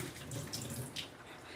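Hot tap water running over meat being cleaned in a kitchen sink: a continuous soft hiss and splash, quiet and close, with no speech.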